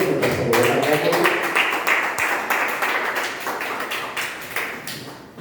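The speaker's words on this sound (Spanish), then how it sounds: "Brinden un fuerte aplauso al Señor" A church congregation claps together in a steady rhythmic beat, loud and close, with a voice faintly audible underneath.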